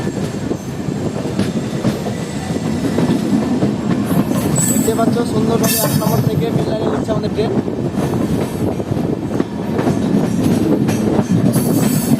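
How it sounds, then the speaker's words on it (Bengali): The Kanchanjunga Express, an LHB-coach train, pulls away from Bolpur Shantiniketan station with a loud, continuous rumble of wheels on rails, clickety-clack and occasional squeals, heard from on board among crowd noise. "ফাইনালি আমাদের কাঞ্চনজঙ্ঘা এক্সপ্রেস ছেড়ে দিল বোলপুর শান্তিনিকেতন স্টেশন থেকে"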